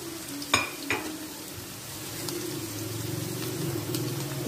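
Onions sizzle steadily in hot oil in a pan while being stirred for a chicken kaleji recipe, with a couple of sharp utensil knocks at the start, then a soft continuous frying hiss.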